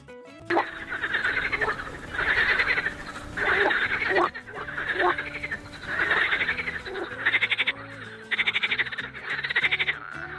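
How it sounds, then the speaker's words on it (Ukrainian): Loud, overlapping frog croaks in rhythmic bursts, a dense chorus of rasping calls repeating throughout with no talking. "навесні ви часто чули гучний жаб'ячий спів"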